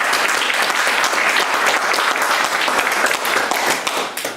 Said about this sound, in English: can we have a round of applause for Azad?